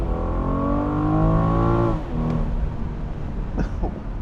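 A 2021 BMW M440i convertible accelerates hard, its engine climbing loudly in pitch before a shift, then settling into a rougher, lower drone with faint road noise.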